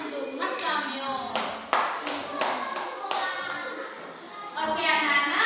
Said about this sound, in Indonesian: Tepuk tangan untuk Mas Samyo